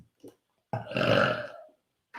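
One long, loud burp close to the listener, rolling on for about a second between brief quiet moments.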